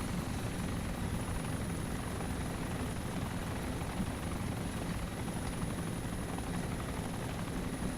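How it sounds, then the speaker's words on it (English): A steady, dense helicopter rotor drone with a faint high whine in an Arma video game mod, constant and unbroken throughout. "I'm pretty sure that's too steep for me to land the helicopter on"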